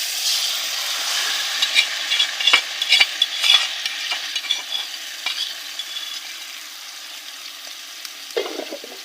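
Marinated duck meat added to browned onions in a hot pan, sizzling loudly while a utensil scrapes and stirs in irregular bursts, close-up, the sizzle easing slightly toward the end.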